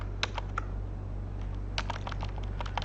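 Keys tapped on a computer keyboard while entering the cd command in a Windows command prompt, a few quick clustered keystrokes in two bursts over a steady low electrical hum.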